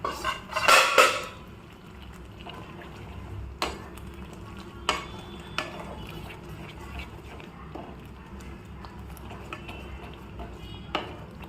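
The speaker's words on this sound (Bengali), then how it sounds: "সো আমরা এই মশলাটা এখন কষছি ভালো করে।" Spice paste with ginger is stirred and fried in a pan over a low simmer flame. A loud clatter comes first, then a soft steady sizzle with sporadic sharp clinks and scrapes of a utensil against the pan.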